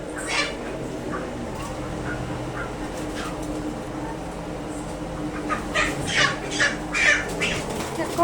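Chickens squawk in scattered bursts at a market stall where they are slaughtered, over a busy background of chatter and market noise, with louder clucks bunching up toward the end.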